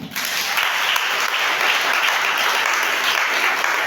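A church congregation applauding for Jesus during a sermon, with loud, dense, sustained clapping from a large crowd that fills the room without a break.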